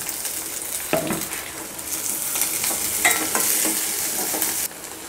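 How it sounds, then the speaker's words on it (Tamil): Chopped onion and green chili sauté in a pan with a steady close sizzle, broken by several scraping strokes of a stirring spoon against the metal. "இப்போ வெங்காயம் பச்சை மிளகாய்லாம் நல்லா வதங்கிடுச்சுங்க."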